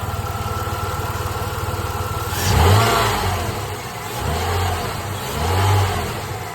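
A Jeep Liberty engine idles steadily after two years of not running, then revs up sharply three times in short bursts, each rise swelling and falling back, close and fairly loud.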